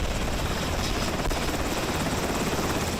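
A police helicopter flying during an operation launched from Medellín airport, its steady rotor and engine roar filling the whole stretch continuously at fairly close range, with no talk.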